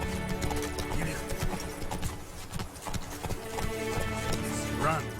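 Hooves clip-clop rhythmically as a horse runs in The Witcher 3, with a whinny near the end, steady and fairly close under in-game sounds.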